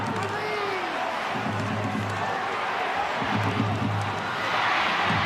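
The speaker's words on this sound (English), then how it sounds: "Listen to the crowd." Packed rugby league stadium crowd roaring during an NRL finals match in extra time, a broad sustained wall of cheering that swells near the end, with a commentator talking over it.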